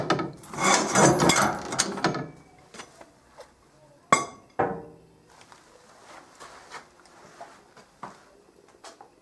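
An original spindly wooden bandsaw leg is pulled from a cluttered workshop pile, giving a dense burst of wooden scraping and clattering, then a sharp knock and a scatter of lighter wood clunks and clinks as it is handled nearby.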